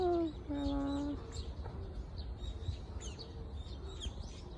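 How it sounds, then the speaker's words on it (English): A bird calls among blossoming sakura trees, a series of chirps and tweets scattered through the clip against a steady outdoor hum, with a voice speaking briefly at the start. "There's the bird."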